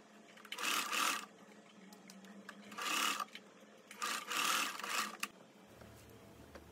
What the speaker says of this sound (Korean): 주름이 움직이지 않게 주름에 고정 스티치를 한번 해줍니다.